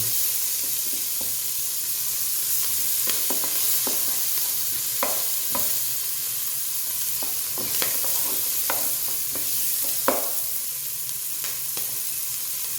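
Potatoes stirred in a hot frying pan, with a constant sizzle and hiss broken by scattered scraping clicks of the utensil against the pan, and no voices.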